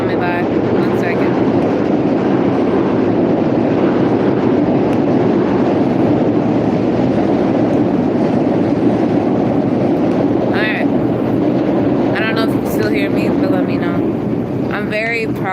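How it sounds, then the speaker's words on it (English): A train passes by outdoors as a steady, heavy rumble that holds loud for the whole stretch, with wind buffeting the microphone and a few brief higher squeals near the end. "The train is coming by."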